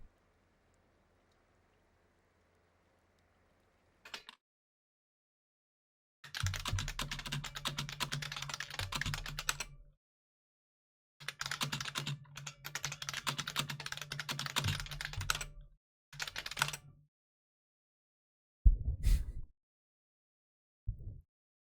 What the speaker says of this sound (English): I'm gonna give you guys a bit of keyboard ASMR.